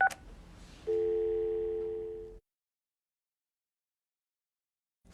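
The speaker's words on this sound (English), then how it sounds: "lift the handset or press the speakerphone button and then press Auto Dial button plus the appropriate location number" Panasonic KX-DT321X office PBX phone giving a short chirp of dialing tones followed by a steady electronic tone lasting about a second and a half, then cutting off abruptly into silence.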